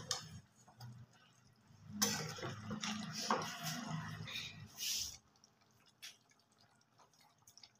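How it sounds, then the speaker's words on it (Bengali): Meat stirred in hot oil in a cooking pot gives a few seconds of scraping, clattering and sizzling in the middle, with quieter dripping and ticking before and after. "আগে একটুখানি নাড়াচাড়া করে নেবো মাংসটা"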